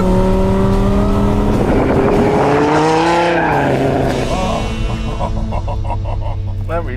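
A Dodge Viper's engine roars loud and close, its pitch rising and falling as it revs hard, with tire squeal mixed in; no one speaks over it.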